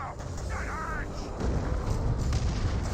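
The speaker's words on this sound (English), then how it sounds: "And now got the Artillery Manticore Barrage right there, pounding the Tyrant Guards severely, both of them." An artillery Manticore barrage pounds away in the strategy video game Dawn of War 2, a dense, steady rumble of heavy booms that swells louder partway through and fills the whole moment.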